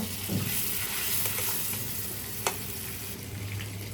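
Prawns flipped and lightly fried in hot oil in a village kitchen, giving a steady close sizzle throughout with a few soft scraping stirs and one sharp clink midway.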